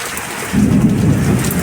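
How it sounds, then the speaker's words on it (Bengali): Heavy rain pours down loudly, then a deep rumble of thunder rolls in about halfway through and continues under the downpour. "প্রচুর বৃষ্টি করছে"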